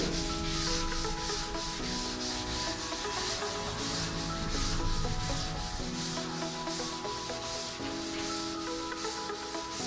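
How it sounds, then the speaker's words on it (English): Continuous rhythmic sanding, a rough scratchy rubbing stroke repeated back and forth at close range, with no talking. "You can tell the difference as you're sanding in the sound and the feel."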